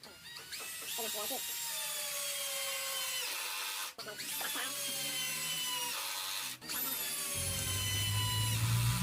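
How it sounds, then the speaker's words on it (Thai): A cordless drill drives three 3-inch screws into wood in the lowest speed setting, whining steadily with brief drops between each screw, loud and close throughout. "ทดสอบความเร็วในการขันสกรูยาว 3 นิ้ว 3 ดอก"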